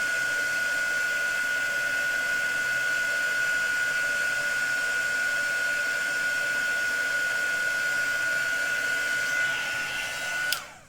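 A handheld heat tool blows a steady, loud whirring whine for several seconds while heat embossing a card, then clicks off abruptly at the end.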